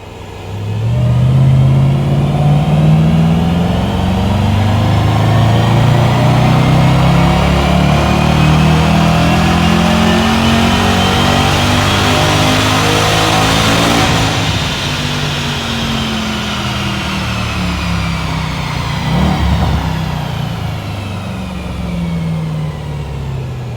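A car engine revs hard on a dyno with a panel air filter fitted. It climbs steadily in a loud, sustained pull, eases off partway through, then runs on at a lower roar, with no talk over it.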